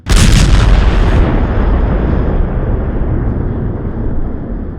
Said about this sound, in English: an explosion ripped through the air, blowing through the trees and tearing branches and leaves from them